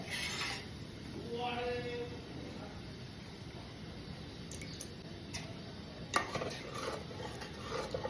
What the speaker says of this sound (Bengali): নাড়তে থাকতে হবে সমান তালে, জমাট বেঁধে যাবে।